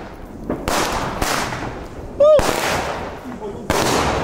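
Fireworks bombs going off outdoors on New Year's Eve, several loud, sharp blasts spaced a second or so apart, each followed by a crackling rumble, with a brief whistling streak between them.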